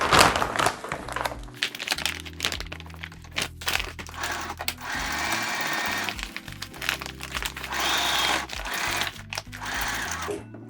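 Sewing machine stitching a straight seam across a feed sack shopping bag, running in steady bursts with short pauses and the crinkle of stiff woven sack material being handled.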